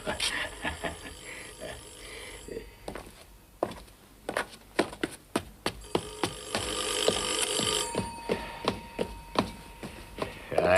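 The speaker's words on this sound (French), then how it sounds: "Il y a le téléphone." Telephone bell rings repeatedly in a 1978 French crime drama interior, sharp bursts in a steady rhythm, fairly close, with brief speech and room noise around them.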